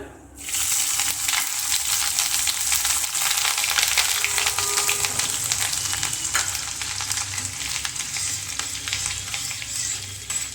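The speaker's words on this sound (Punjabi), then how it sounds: "ਜੀਰੇ ਨੂੰ ਫਰਾਈ ਕਰਕੇ ਨਾਲ ਹੀ ਆਪਾਂ ਅਦਰਕ ਤੇ ਲਸਣ ਨੂੰ ਪਾ ਦਵਾਂਗੇ" Ginger and garlic frying with cumin in hot oil, a loud continuous close sizzle and crackle after a sudden start, holding steady throughout.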